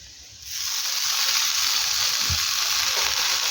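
Onion and garlic fry in hot oil as chopped water spinach goes into the pan; a steady, close sizzle swells after a quiet start and holds loud, with no talking.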